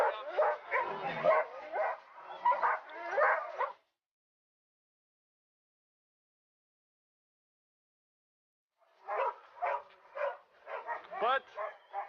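Sled dogs at the start of a dryland scooter race in Lamotte-Beuvron yip and bark excitedly in two bursts of rapid, close, high-pitched barking, with a quiet pause between them.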